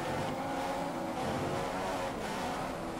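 An Formula 1 car engine in the video game F1 2015 at the Spanish Grand Prix, a continuous high-revving whine that stays steady and fairly loud for the whole stretch, with no talk over it.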